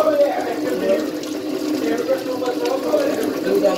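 Warm water runs from a household tap over hands being washed, a close, steady splashing that wavers slightly as the hands move through the stream, with a voice talking over it.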